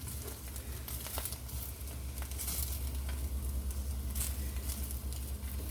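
SPAM slices sizzle steadily in a hot frying pan while being stirred, with a constant dense crackle and occasional scraping clicks from the utensil, close and continuous without speech.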